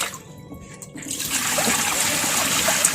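Water pours into a pot of sticky rice for a final rinse, starting quietly and swelling into a steady, close rush and splash that holds to the end.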